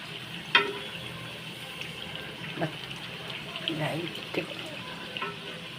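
Steady close-up sizzle of lentil fritters (parippu vada) deep frying in hot oil, with occasional pops and a few light clinks of a utensil.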